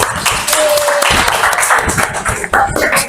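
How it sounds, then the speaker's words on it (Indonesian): Classroom applause during an academic supervision observation, loud and continuous clapping from a group of students with some voices mixed in throughout. "Boleh tepuk tangan dulu."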